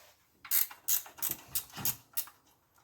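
A ratchet wrench loosens the alternator belt bolt on a 1972 Buick Skylark, giving six or seven quick, loud clicking bursts in an uneven rhythm, close up and with no talk.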